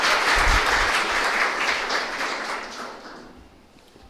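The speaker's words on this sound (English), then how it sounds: "Let's give them a big round of applause" A hall audience claps for debate competitors, a dense wash of applause that starts strong and fades away over a few seconds.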